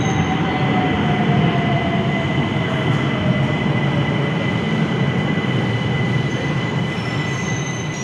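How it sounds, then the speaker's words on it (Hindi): A Mashhad metro train pulling into an underground station, a loud steady rumble of wheels on rail with thin high squeals from braking wheels running throughout, close and continuous with no talk. "ये मेट्रो आ रही है, मैं इस पर सवार होकर अभी मैं जाऊँगा।"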